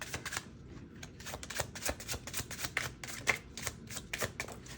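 Tarot cards being shuffled and drawn from a deck, a quick run of crisp papery flicks and riffles at close range, steady and uninterrupted with no voices.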